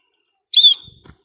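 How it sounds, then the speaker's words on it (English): An emergency whistle on a lanyard, with a compass and thermometer attached, gives one short sharp shrill blast followed by faint handling noise. "We have in here a lanyard with an emergency whistle, as you see."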